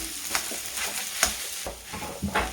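Spiced potato filling for aloo paratha sizzles in a pan while a spoon stirs and scrapes it, a steady close fry broken by several quick scraping strokes.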